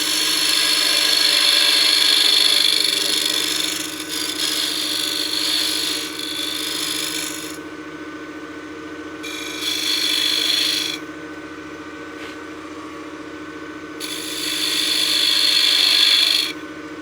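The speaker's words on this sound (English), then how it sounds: "I'll use my skew to create a nice little dovetail." A wood lathe spins a box blank while a skew chisel cuts a dovetail, giving a steady motor hum beneath bursts of hissing, scraping cuts that come and go in several separate passes.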